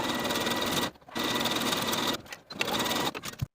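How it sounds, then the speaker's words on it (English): A sewing machine stitches a jersey tie piece along a long seam in fast, steady bursts, stopping briefly twice before running on and halting at the end. "sew your tie piece along that long edge and angled short edge with a 5/8 inch seam allowance"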